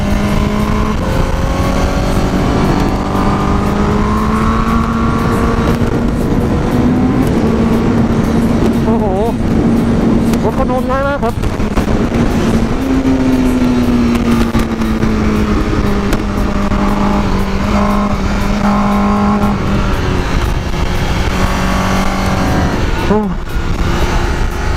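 A Honda CBR1000RR-R SP sport motorcycle with Conti Race Attack 2 Street tyres is ridden hard around the Kaeng Krachan race track, its engine droning steadily and rising in pitch through gears, with someone talking over it throughout.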